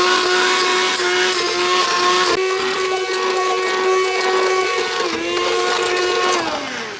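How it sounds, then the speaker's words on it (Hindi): A steady high-pitched hand blender whine runs throughout as it blends pizza sauce close by, holding its pitch with a slight dip near the end. "हैंड ब्लेंडर ले लें, कोई मसला नहीं है। इसी में ही आप इसे थिन कर लें।"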